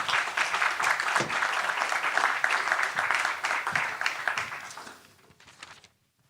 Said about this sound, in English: Warm welcome and applause for Michiel.